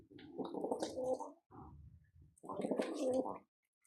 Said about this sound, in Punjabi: ਚਿੱਟੀਆਂ ਅੱਖਾਂ ਵਾਲੇ ਕਬੂਤਰਾਂ ਦੇ ਵਿੱਚੋਂ ਜੀ, ਜੰਨੂ ਬਲੀਡ ਦੇ ਵਿੱਚੋਂ